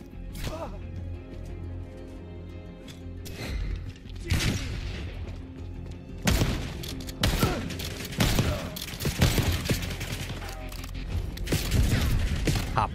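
Bursts of gunfire in Call of Duty: Black Ops 6 on Xbox Series crack out in uneven volleys, some loud and close, over a steady mechanical background rumble.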